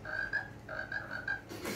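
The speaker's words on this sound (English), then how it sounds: "Never been appreciated by a frog, or possibly a toad before." A frog or toad croaks in a short run of about five rhythmic, nasal pulses over steady background hiss during a live show at a chapel venue.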